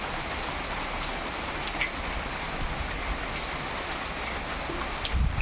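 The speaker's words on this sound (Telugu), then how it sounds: "కంటిన్యూ వర్షం అండి మాకు టూ అవర్స్గా" Steady, dense rainfall hissing evenly across the whole stretch, with scattered drops tapping on nearby surfaces and a low background rumble.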